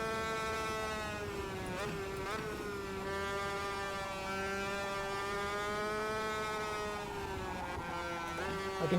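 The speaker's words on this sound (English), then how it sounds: "I can hear him behind me, a faint buzzing in the background of a little engine" A steady, high-pitched superkart engine buzz in the racing game Automobilista 2, during a race at Suzuka, drones continuously with harmonic whine, rising and falling slightly in pitch, fairly constant in loudness throughout.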